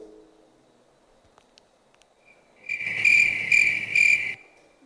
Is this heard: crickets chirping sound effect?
yes